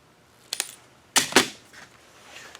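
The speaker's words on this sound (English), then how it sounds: "I'll go ahead and trim a little bit more off my edge there" Trimming the edge of a small handmade angle gauge gives a few short, crisp clicks and snips, two small ones and then a louder pair close up, with faint ticks afterward.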